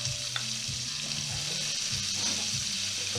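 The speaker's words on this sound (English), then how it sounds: "we're going to throw the rest of these onions in there" Onions and garlic sizzle steadily in a frying pan for beef liver pâté, a close, continuous hiss and crackle with faint stirring scrapes and no talking.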